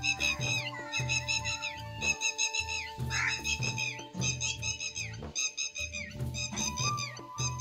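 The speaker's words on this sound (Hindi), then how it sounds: "परिंदों की आवाजें ये जा रहा है।" Several birds call and whistle through a village morning, with bright repeated chirps and whistles over a steady low hum, moderately near and continuous without talk.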